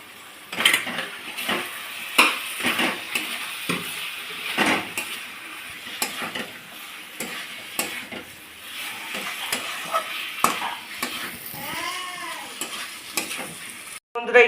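Jackfruit sizzles in a hot pan while a utensil stirs and scrapes against the metal in repeated bursts, and light clinks come through above the frying.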